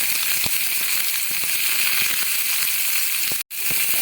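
Chopped onions dropped into hot oil with bay leaf, dried red chilli and cumin, giving a steady close sizzle with scattered pops and one brief break near the end.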